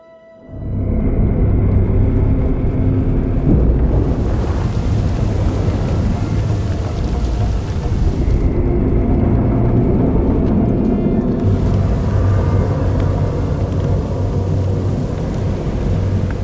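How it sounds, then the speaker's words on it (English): Starship engines in SWTOR spin up to lift a grounded ship, a loud continuous rumbling roar with low droning tones that starts abruptly and holds steady, swelling brighter at moments, with no talk over it. "Firing up the engines."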